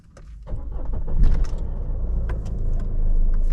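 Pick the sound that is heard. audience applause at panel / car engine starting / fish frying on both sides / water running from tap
car engine starting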